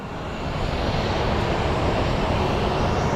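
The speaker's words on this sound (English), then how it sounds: "So that is Tennessee 1 right there. Beautiful, beautiful plane." An airliner at Sky Harbor Airport, a loud, steady broadband engine roar that swells slightly at the start and then holds without interruption.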